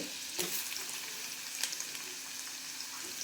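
Chopped onion sautéing in a pan for an ivy gourd (tondli) vegetable dish, a steady broadband sizzle with a few soft stirring scrapes, close and continuous with no voices.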